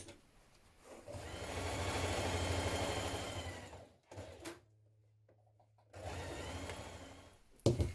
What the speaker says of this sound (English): sew the side seams of the cape and the cape lining and press open